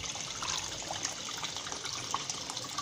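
Water gushing steadily from an open pipe end filling a main koi pond, a loud continuous splashing rush with no talk.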